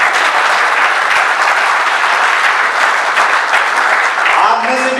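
An audience at a live comedy show breaks into loud, sustained applause, dense crowd clapping that fills the space evenly for several seconds, with a voice starting to speak at the very end.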